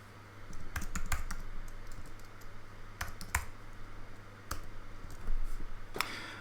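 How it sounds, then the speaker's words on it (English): Typing on a computer keyboard, close by: irregular clusters of crisp key clicks with brief pauses between bursts, no talking. "I can also type colon and start typing"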